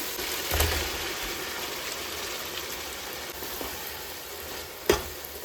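Mutton hits hot oil with half-cooked tomato in a pan for biryani, and a steady, even sizzle follows, with a couple of brief clinks and stirs.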